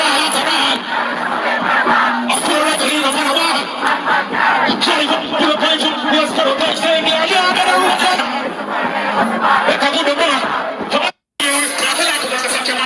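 A dense dancehall show crowd roars and chants loudly and continuously, a wall of shouting voices with a brief sudden cutout near the end.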